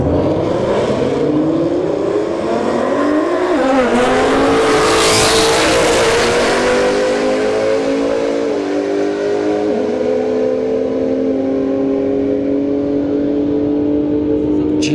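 Nissan GTR and Ford Mustang S550 launching side by side at a drag strip, loud engines revving and climbing in pitch through gear changes, then fading as the cars pull away, with a commentator talking over it.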